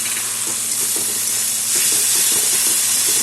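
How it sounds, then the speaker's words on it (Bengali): Garlic and ground spices (cumin, coriander and Kashmiri chili powder) sizzle steadily in a hot pan for prawn curry, with soft stirring scrapes, growing slightly louder partway through, with no talking. "এখন একসাথে কষিয়ে নেব"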